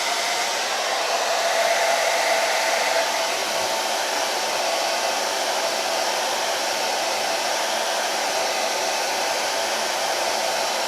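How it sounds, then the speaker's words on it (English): A hair dryer set to hot blows in a steady, loud, unbroken whoosh for the whole stretch, used while debadging a VW Mk7 GTI, with no talking. "I'm going to turn it on to hot."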